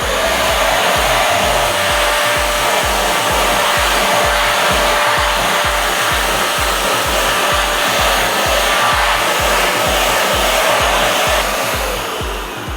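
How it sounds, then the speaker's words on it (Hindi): A Sheffield Classic SH 8003 handheld vacuum cleaner with an 800-watt motor runs on a floor, giving a loud, steady whine and rush that pulses rapidly and evenly throughout. "अब देखते हैं कि फ्लोर में ये कितना वैक्यूम क्लीनर इफेक्टिव होता है"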